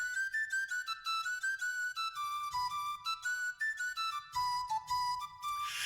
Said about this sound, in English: the whistle is back. I'm going to take a sip while it whistles.